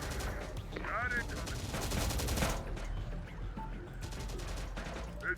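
Rapid bursts of automatic gunfire in the Terminator: Dark Fate - Defiance video game, dense and loud across the clip, with a pause midway before firing resumes and voices calling out over it.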